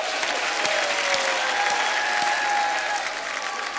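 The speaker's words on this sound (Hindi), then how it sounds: "जोरदार तालियां हो जाएं।" Studio audience at a television comedy show bursts into loud, steady applause after a film trailer, a full continuous roar of clapping.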